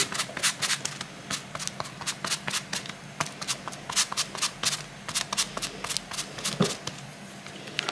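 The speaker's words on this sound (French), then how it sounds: "J'ai déroulé ma pâte feuilletée que je vais piquer." Rolled-out puff pastry dough is pricked over and over, giving a rapid, irregular patter of close, crisp taps that runs steadily throughout.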